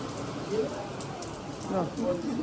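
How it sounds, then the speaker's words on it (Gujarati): Heavy rain pours steadily onto surfaces in a dense, continuous hiss, with voices faintly audible beneath the downpour. "ગજબનો વરસાદ આવી ગયો"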